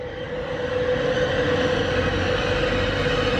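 A passenger train bound for Leeds pulls out of a station platform, giving a steady low rumble with a sustained mechanical hum that stays close and even throughout.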